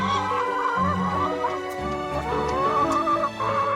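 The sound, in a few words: hens clucking on a farm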